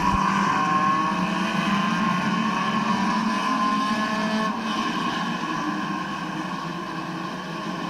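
Race cars roaring around the dirt track at Midvale Speedway, a dense, steady engine drone with layered harmonics that holds loud throughout, dipping slightly in the final seconds as the pack moves on.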